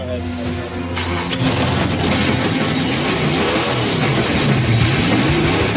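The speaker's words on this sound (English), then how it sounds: "So he hits the key and that car starts right up." A hot rod's engine cranks, fires up and runs, starting with a brief whine and then a loud, rough, throaty idle with rising and falling revs, close by and sustained.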